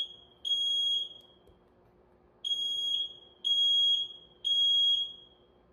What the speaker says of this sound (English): there's a fire alarm going off